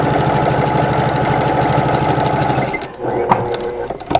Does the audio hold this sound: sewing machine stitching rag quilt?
yes